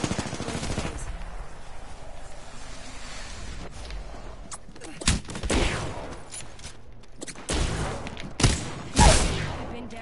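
Video game gunfire, a sustained rattle of machine-gun bursts with several louder individual shots and thuds later in the passage, fairly close and prominent.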